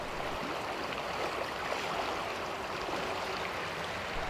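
Steady, broad rush of a flowing river, constant and fairly close, with no breaks or other sounds standing out.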